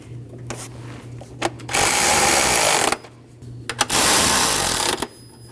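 Two 10mm bolts on a coolant hose of a 5.6L V8 Nissan NV2500 van are run down with a power tool, giving two loud, close bursts of buzzing whir, each over a second long, with brief clicks between.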